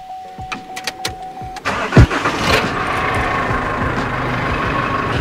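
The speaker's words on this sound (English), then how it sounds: "Let's start the car and see how this thing goes." A car engine cranks with a few sharp starter bursts, then catches at about two seconds and settles into a steady, loud idle. Power comes from a flat LiFePO4 lithium battery being revived in safe mode with a charger.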